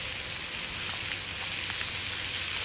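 Onions sizzle and brown in a pan over a campfire for French onion soup, a steady, even frying hiss with a few faint pops and crackles throughout.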